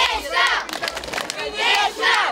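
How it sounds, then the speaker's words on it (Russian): A large crowd of football fans roars and chants loudly in surging waves, with no clear single voice standing out. "болельщиков, которые, к слову, громко и активно поддерживали футболистов"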